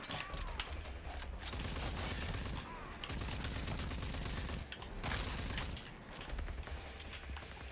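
Rapid gunfire in RAGE 2, long loud bursts of automatic shots rattling almost without a break, with a few sharper cracks.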